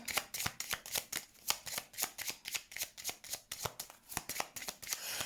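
Tarot-style cards being shuffled and laid down for a reading, a fast run of crisp close riffling snaps in an even rhythm with no talking.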